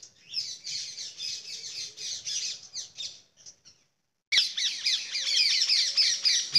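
Parrots feeding on guavas in a tree give shrill, rapid squawks in dense clusters, a brief pause, then another loud run of harsh calls close by.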